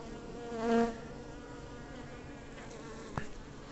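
Honeybees buzzing around an old or sick queen that the swarm has pushed out of the hive, outdoors, with a bee stinging: a steady close insect drone with one louder swelling buzz near the start and a short sharp click later.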